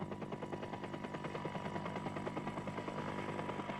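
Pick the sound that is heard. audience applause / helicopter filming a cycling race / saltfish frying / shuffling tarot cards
helicopter filming a cycling race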